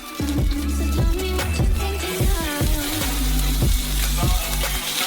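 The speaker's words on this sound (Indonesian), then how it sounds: "Bacon adalah yang berikutnya. Jadi kita kirimkan ke wajannya." Bacon sizzles and crackles in a hot pan, a loud, steady fry close up with intermittent stirring knocks and no voices.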